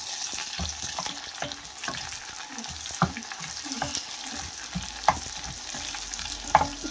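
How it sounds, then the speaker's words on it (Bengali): Shahi cumin and a bay leaf frying in hot oil for a lentil and green papaya dish, a steady close sizzle with scattered sharp crackles and pops, no voices. "এখানে আমি একটু শাহি জিরে দিয়ে দিলাম আর একটা তেজপাতা দিয়ে দিলাম"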